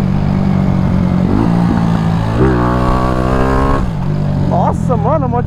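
A CG 94 Today motorcycle with a 240cc engine running on a highway, steady loud engine drone that rises and falls as it changes gear, heard close with someone talking over it.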